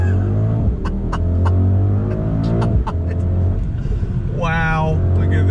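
A 2021 Mercedes-AMG GLS 63 SUV engine drones and rises under throttle with a steady loud rumble, while people talk over it inside the cabin.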